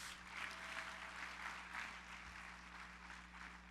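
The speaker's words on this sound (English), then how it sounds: "So let's give Nationwide a round of applause" A soft, steady round of applause at an awards celebration dinner, a distant crowd clapping evenly over a low hum in a large room.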